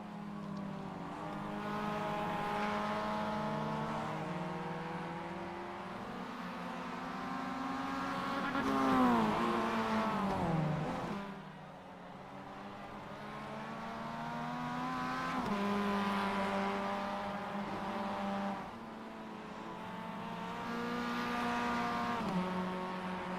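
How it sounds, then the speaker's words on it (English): Mazda MX-5 race cars lapping together in the iRacing sim at Oran Raceway Park, engines droning steadily with layered revs that rise and fall as the cars shift and jostle through corners, loud and continuous. "Just enjoying the sounds of the cars right now."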